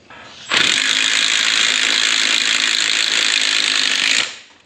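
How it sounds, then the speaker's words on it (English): A loud, harsh mechanical rattle runs steadily for nearly four seconds, like a power drill boring through material, then winds down. "Boy, that's a weird drill bit,"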